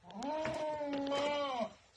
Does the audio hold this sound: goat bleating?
yes